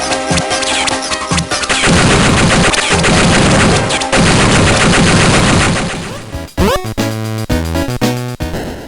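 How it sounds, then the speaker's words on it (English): Shoot-'em-up battle in a Game Boy Advance action RPG, with dense rapid-fire electronic gunfire and chiptune blasts in a loud, nonstop cacophony, then sharp zapping effects and bursts near the end. "suddenly you're in a fast-paced shoot-'em-up sequence, blasting enemies across the screen"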